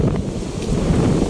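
Strong wind at a seaside picnic spot gusting hard across the microphone, a continuous loud low rumble and buffeting with no voices.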